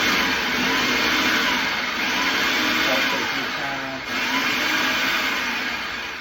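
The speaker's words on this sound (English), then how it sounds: "just take the pulse part, or you can do low of your food processor, and get this onion good and fine" A food processor running on low or pulse, finely chopping onion for chicken and dressing, a continuous whirring motor drone lasting several seconds with a slight dip near the end, heard close and alone.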